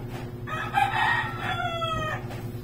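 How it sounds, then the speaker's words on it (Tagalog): A pumpkin sweater rooster crows once, a long drawn-out call rising and falling, over a low steady background hum. "pumpkin sweater na manok"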